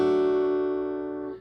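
An acoustic guitar chord struck with a thumb, slap and flick strum for a song, one ringing chord fading over about a second, close and alone.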